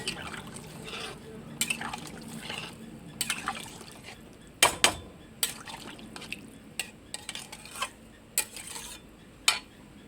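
Water poured into a simmering soybean egg curry with potatoes, with soft liquid sounds, a bubbling simmer and sharp clinks of a utensil against the pot, close by.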